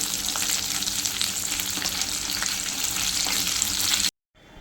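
Stuffed veg finger chips rolls deep-frying in hot oil, a steady dense sizzle with crackling bubbles, close and loud, cutting off abruptly near the end.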